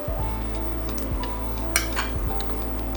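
Vegetables sizzle and fry steadily in a pot for a lion's mane mushroom pilaf while a utensil stirs and scrapes, with no voices.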